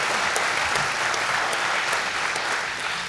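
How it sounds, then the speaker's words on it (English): Audience at a parish candidate forum applauds steadily for the candidates, a dense, even clapping from a room full of people with no talk over it. "have everyone give a round of applause to"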